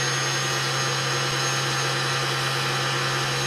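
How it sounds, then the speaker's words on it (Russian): A household electric mixer whipping cream for chocolate mousse, giving a steady, continuous motor whir with a constant hum throughout, close and fairly loud, with no talking. "Это тоже бытовой миксер."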